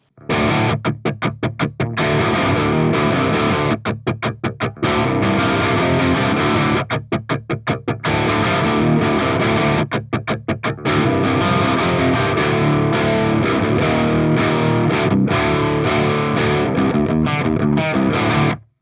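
An electric guitar through a 5150 amplifier's blue channel at low gain, lightly driven, playing loud rhythmic chords with choppy muted stops and sustained sections, without any voices.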